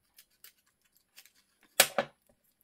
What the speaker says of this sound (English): we're going to cut right up here